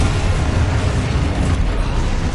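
A Confringo blasting spell goes off in the video game Hogwarts Legacy, a loud, dense roar of explosive noise that fills the whole short moment without a break.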